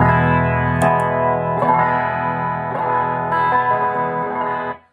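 An electric guitar through a Kingsley Mason overdrive pedal used as a treble booster, bright and boosted, plays sustained chords, ringing with slight grit and echo before cutting off sharply.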